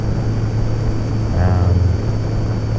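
An RC T-28 Trojan model plane at full throttle climbs with a steady motor and propeller drone, briefly swelling as it passes nearer the camera, then settling back to a constant hum.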